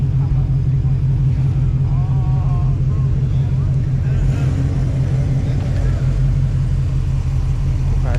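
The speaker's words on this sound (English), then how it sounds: "We got a Camaro pulling up." A steady, loud engine drone from a Chevrolet Camaro pulling up holds a constant low rumble throughout, with a person's voice briefly audible over it.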